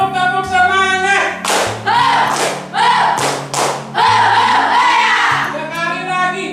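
Students in a class clap a rhythmic 'tepuk semangat' spirit cheer again, with loud, tight bursts of group clapping alternating with chanting voices over a low droning backdrop.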